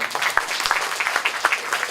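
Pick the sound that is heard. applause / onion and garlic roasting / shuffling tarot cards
applause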